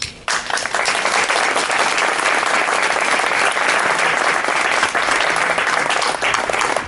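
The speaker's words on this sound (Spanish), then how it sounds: "esa gente merece nuestro aplauso" Sustained audience applause at a tribute event honoring Francisco Granado, a thick, even wash of many hands clapping close and loud for several seconds without talk.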